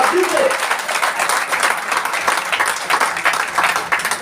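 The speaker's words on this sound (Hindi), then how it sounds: "इनके लिए एक बार जबरदस्त तालियां, जबरदस्ती से तालियां।" An indoor audience at a gathering claps loudly and continuously for newcomers attending for the first time, a dense, steady wash of applause with crowd noise throughout.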